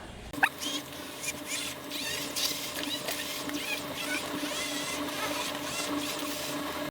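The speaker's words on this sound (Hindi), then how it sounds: "बस किसी भी ब्लेंडर से आपने ब्लेंड कर लेना है।" A blender grinding spices whirs steadily with a grinding, rattling drone, its motor running continuously at close range with no pauses.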